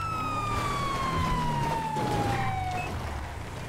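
A police car siren in the LSPDFR video game wails, a single sweeping tone that slides steadily downward before cutting off, over low engine rumble.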